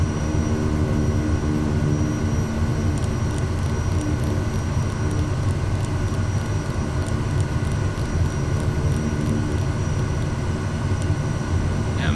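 Propeller engine of the SWS Kodiak 100 in Microsoft Flight Simulator 2024, a steady loud drone with no pauses, set to full forward propeller before takeoff.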